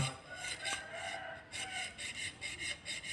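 Rasping scrapes on a takrut amulet being shaved down by hand, a steady run of short repeated strokes, close and fairly quiet, with no talking.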